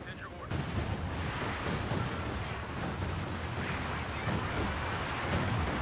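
An assault artillery barrage in the war game Company of Heroes 2 produces a dense, continuous roar of overlapping blasts and rumbling impacts that stays loud and unbroken throughout.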